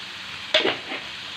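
Calamari frying in a pan with parsley and salt, giving a steady close sizzle with one sharp crackle and a brief stirring scrape near the middle.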